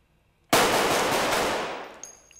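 Gunfire from the horror film Terrifier: a single loud burst starts abruptly, rings out in a dense, rattling rush, and fades over about two seconds.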